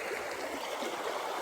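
Clear back-country river in New Zealand runs steadily close by, a continuous bright rush and trickle of water with no voices over it.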